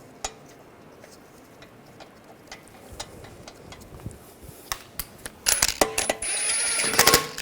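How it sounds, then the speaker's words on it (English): A lug bolt is started by hand onto the wheel of a 2009-2010 BMW 535i xDrive: sparse, sharp metallic clicks and taps that build into a louder burst of clattering metal near the end. "Take the lug bolt, get that started."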